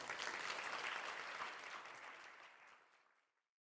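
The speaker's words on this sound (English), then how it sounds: "Thank you very much, first of all, for the kind introduction and for the warm applause." A lecture audience gives a speaker a welcoming round of applause, full and sustained at first, then thinning and fading out to silence.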